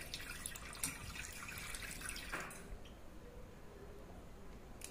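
Water streaming and dripping from a squeezed cloth holding homemade paneer, a steady trickle that thins out toward the end, fairly faint and close.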